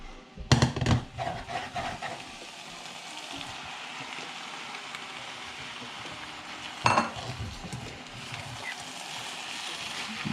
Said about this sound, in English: At the end is just an ultimate stir fry of all the ingredients to get all the flavors together.